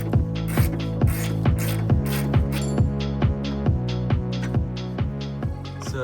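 A ratchet wrench undoes a bolt on the rear suspension arm of a Mk2 Ford Focus ST. Loud, close, rapid clicking strokes repeat in a steady rhythm of about two pulls per second throughout, with no talking.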